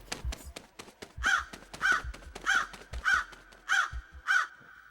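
A crow caws six times in a steady, evenly spaced series of harsh calls, fairly clear and close, with faint clicking sounds between them and no talk.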